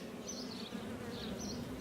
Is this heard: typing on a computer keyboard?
no